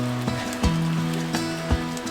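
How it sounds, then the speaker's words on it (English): Rain patters steadily on surfaces on a cozy autumn day in the city, with a few louder drops landing close by over the constant wash. "Do you like the rain?"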